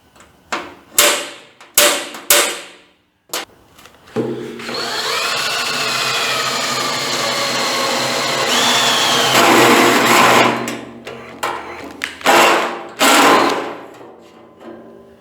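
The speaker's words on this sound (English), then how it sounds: "I'm gonna use a hole saw instead." A hole saw bites into a homemade steel fuel tank for a 1940 Chevy coupe, starting with several short sharp bursts, then cutting continuously with a whining, slowly shifting pitch, and ending in a few more brief bursts.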